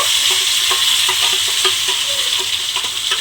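Spiced potatoes are tossed into sizzling masala for aloo korma, giving a continuous close frying hiss with soft stirring scrapes and light clinks throughout, and no voices.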